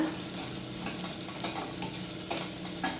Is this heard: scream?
no